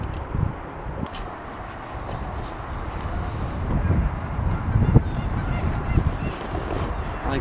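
Geese honk intermittently in the distance over steady wind buffeting and outdoor background noise by the water.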